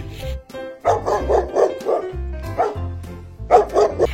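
A dog barks repeatedly in short clustered bursts with brief pauses between them, loud and close, with a few higher yips mixed in.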